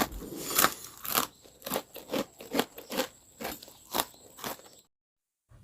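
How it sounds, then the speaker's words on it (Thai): Homemade Thai shrimp crackers crunched in the mouth, a run of about a dozen crisp, brittle bites and chews in an uneven rhythm, close and fairly loud, with no talk, ending in a short silence. "เดี๋ยวเราจะมาชิมแล้วก็ให้ฟังเสียงกันเลยนะ"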